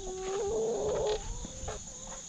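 Backyard chickens and a rooster clucking close by, a string of warbling, rising clucks running together for about a second, then quieter scattered clucks trailing off.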